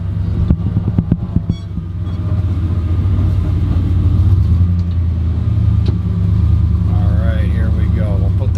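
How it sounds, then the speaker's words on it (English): A car approaches slowly and its engine rumble builds steadily over a loud, continuous low drone, with people talking at the start. "There's a car coming, but it's going really slow."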